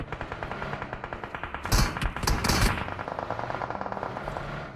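Rapid automatic gunfire in PUBG Mobile, a steady stream of close, evenly spaced shots throughout with two louder, denser bursts in the middle.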